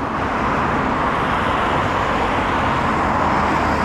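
Steady roar of street traffic on Avenida del Cid in Mislata, a two-way road with a divided median, cars passing continuously and loudly nearby with no break and no talking.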